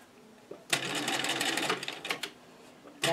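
A sewing machine runs steadily for about a second and a half, top stitching ruffles onto a fabric table runner, then slows and stops in short bursts, close and clear with no talking.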